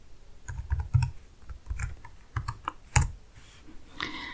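A password being typed on a computer keyboard, a short uneven burst of close key clicks and taps, fairly quiet, with no talking.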